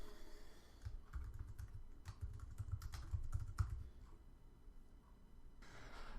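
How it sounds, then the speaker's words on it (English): Typing on a computer keyboard while entering text in Xcode for a tip calculator app, a quiet close series of irregular key clicks in short bursts over a soft background hum, with no talk. "For the title of the message, I'm going to type bill amount."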